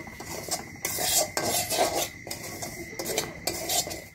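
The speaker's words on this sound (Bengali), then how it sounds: "ঘির মধ্যে এই সুজিটাকে আমাকে অনবরত নেড়ে যেতে হবে যতক্ষণ এটা ভালোভাবে ভাজা হচ্ছে" Semolina frying in ghee is stirred in a pan with a metal spoon, producing repeated scraping and clinking bursts at a steady rhythm, close and fairly quiet, with no talking.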